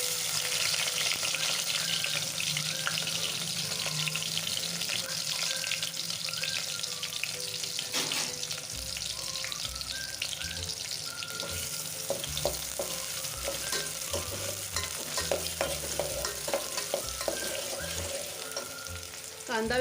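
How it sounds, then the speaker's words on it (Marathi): Onion frying in very hot oil gives a steady, fairly loud sizzle throughout, broken by scraping and stirring clatter in the middle and later stretches. "कडकडीत तेल तापलं ह्यात टाकायचा कांदा."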